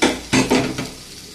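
Okra fry is sautéed and scooped from a pan, a spatula scraping and clattering in quick, close strokes over a soft sizzle, three or four scrapes in a row before it settles quiet.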